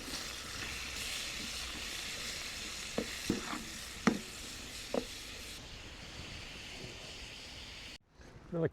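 Chunks of meat sizzling steadily in a pan at a camp in France, with a few sharp clicks and scrapes as scissors cut the meat in the pan.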